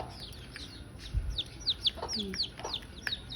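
Chicks peck at a pile of beetles, chirping and clucking in quick high peeps with a few lower clucks, close by and moderately loud over a quiet background.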